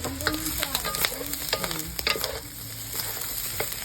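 Chicken liver hits a hot pan and fries with a continuous bright sizzle, while a utensil stirs it with repeated scraping knocks close by.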